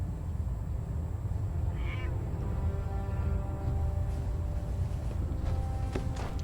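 A cat meows in the Fallout 4 video game, a short mew rising once near the start and again faintly later, over a steady low game ambience hum.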